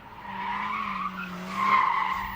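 Cars drifting sideways with tyres skidding, a sustained howling tyre squeal that swells louder toward the end of the short burst, backed by engine drone.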